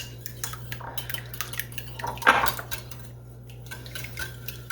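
Whisking eggs lightly in a bowl for a ham and cheese pie, heard as a brief cluster of clinking utensil-on-bowl taps near the middle, close and moderately loud over a quiet room.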